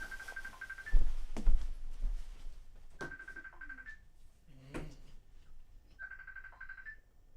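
A telephone rings indoors during a live home concert stream, three evenly spaced electronic ring bursts about three seconds apart, with knocks and handling noises between them and no talk.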